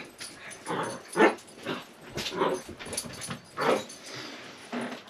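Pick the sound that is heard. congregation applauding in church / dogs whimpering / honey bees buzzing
dogs whimpering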